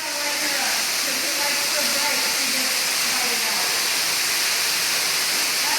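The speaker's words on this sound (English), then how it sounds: "Look at this waterfall" Water pours as a constant, loud, rushing hiss inside Smith Hollow Cave while the flow is low, and a voice is faintly heard beneath the roar.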